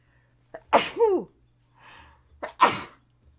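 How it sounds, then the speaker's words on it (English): Two sneezes, each with a sharp intake of breath followed by a loud burst, set close together in an otherwise quiet room. "Have I ever even sneezed on camera before?"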